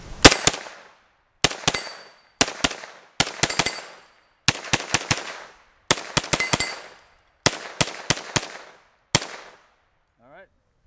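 An AR-10 rifle fires in sharp, loud bursts of rapid shots, about eight or nine clusters separated by short pauses, each crack trailing off quickly, outdoors with no talking between them.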